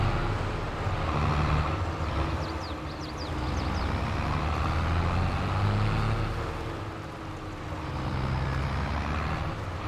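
A car passes through a farm scene in the Farming Simulator video game, its engine and road noise swelling and fading against a steady rumbling machinery drone, with no voices.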